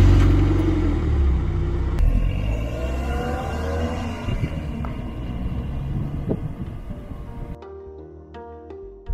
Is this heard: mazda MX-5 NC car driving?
yes